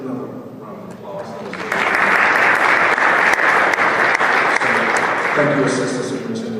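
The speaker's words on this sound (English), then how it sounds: "let's give another round of applause" A crowd at a school district meeting bursts into sustained applause, many hands clapping steadily for several seconds before it begins to thin toward the end.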